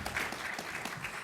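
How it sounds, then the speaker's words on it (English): An audience at a college counseling panel claps in a brief, soft, diffuse patter heard from a distance, lasting only a moment. "I don't know if you're clapping for me"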